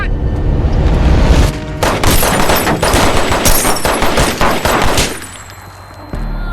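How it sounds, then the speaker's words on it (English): A rapid fusillade of loud gunshots from a police officer's firearm, dense overlapping bursts lasting about five seconds before cutting off into near quiet. "the white cop shot him dead"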